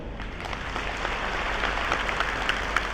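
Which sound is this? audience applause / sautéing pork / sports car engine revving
audience applause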